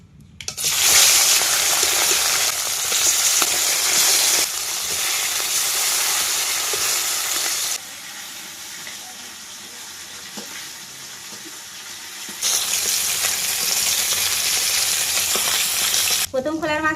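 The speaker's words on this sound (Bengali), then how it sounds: "একে একে মাছগুলো ভেজে নেব।" Fish frying one by one in hot oil in a wok (kadai) in a Sundarbans kitchen, giving a loud, steady hiss and crackle that swells and eases in stages, then stops abruptly near the end.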